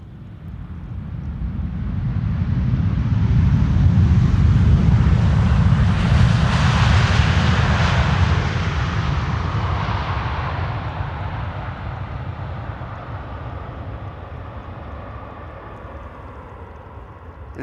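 A KLM Airbus A330 wide-body airliner approaches over the coastline, its jet engines rising from a low rumble to a loud, broad roar that then gradually recedes, with no speech.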